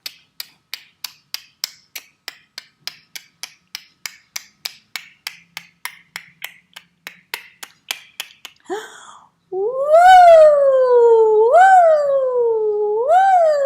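A voice imitates a roller coaster ride, first with a long run of rapid, evenly spaced clicking like cars climbing the lift hill, then loud swooping, wavering whoosh cries for two cars racing down.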